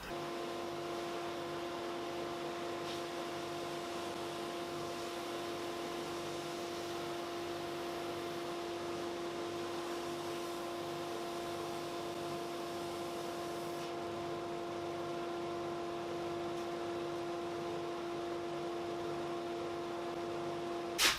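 Power sander shaping oversized pine splines on a wooden box made of Australian timbers, a steady droning hum with a constant tonal whine throughout, close and unbroken with no talk.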